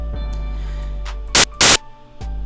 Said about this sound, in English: set that to a noise wave. White noise specifically.